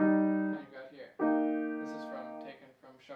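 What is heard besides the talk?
No everyday noise stands out behind the speech.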